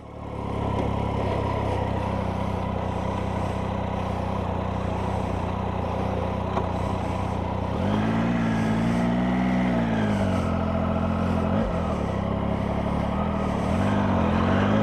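A 2018 Triumph Tiger 800 XRT motorcycle riding on an A-road, its engine a steady loud drone that rises and falls with gear changes, heard continuously from the rider's position.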